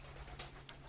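A pet bird perched near the microphone gives a couple of short, faint calls over a low steady hum, with the sharpest chirp coming near the end.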